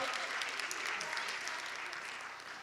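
Steady applause from a crowd fills the space, a continuous wash of clapping that stays even and then eases slightly toward the end.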